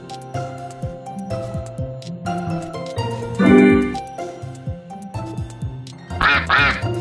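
Cartoon duck quacks in the Wii game Ultimate I Spy, several clear quacks arriving in clusters over playful background music and game effects, loudest near the middle and the end.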